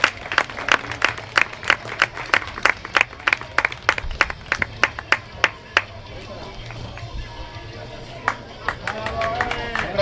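Audience at a boxing match clapping for both athletes, sparse individual claps ringing out in an uneven rhythm that thins out toward the end, with some murmured voices in the room.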